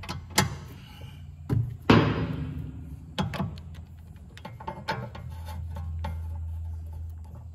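Ratchet with an extension loosening 16 mm bolts on a Tesla Model S Plaid rear suspension: scattered metallic clicks and clanks, one ringing metal knock, close and intermittent, ending in a low mechanical hum.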